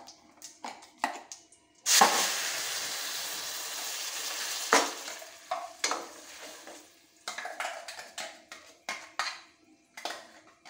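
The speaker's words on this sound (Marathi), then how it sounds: "परतून घेऊया, मातशी परतून घेऊया।" Cashew apple curry being sautéed in a pan, with a soft sizzle under repeated stirring and scraping of a utensil against the pan, in short bursts and one longer stretch, fairly quiet and close.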